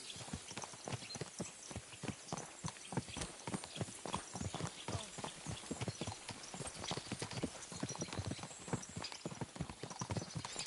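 Horse hooves clip-clop steadily in a medieval setting from the Kingdom Come: Deliverance II video game, an even, brisk walking rhythm of hoofbeats that runs without a break, fairly quiet throughout.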